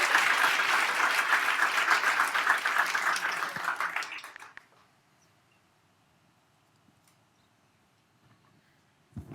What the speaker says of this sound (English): Please welcome TuneMates for the last project. Big round of applause.